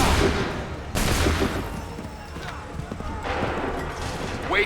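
Musket volleys ring out in the video game Assassin's Creed III, with sharp massed gunfire bursts followed by lingering rumble and battlefield noise, loud and close, while voices shout commands.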